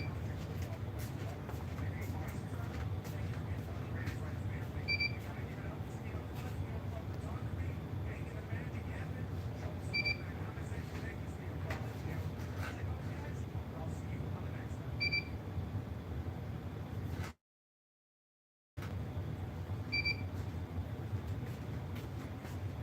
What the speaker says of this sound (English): the reason you guys hear it beeping right now is because my ink is low